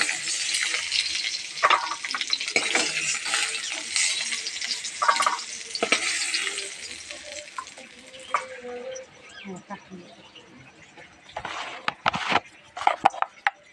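Food frying in oil and being stirred, a crackling sizzle with scraping strokes that fades later into sparse clinks and taps. A person speaks quietly in the background.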